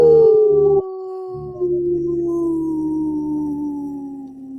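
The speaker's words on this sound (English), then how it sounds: "Equal parts sad and angry howl about what's going on in the world" A single wolf howls in a long, sustained, slowly falling tone, briefly broken early on before resuming and trailing off, loud and clear with little background noise.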